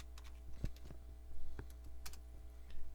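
A computer keyboard is typed on in short, irregular bursts of light clicking keystrokes over a low steady hum, fairly faint and close, with no voices.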